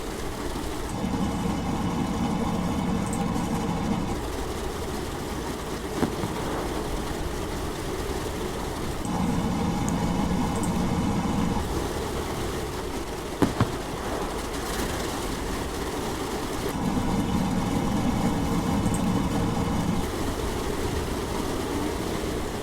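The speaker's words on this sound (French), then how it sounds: "Et voilà, nos moteurs sont en route." Simulated engines of a Latécoère 631 flying boat run in Microsoft Flight Simulator, a steady droning rumble that swells and eases in repeating cycles, with occasional clicks and no speech.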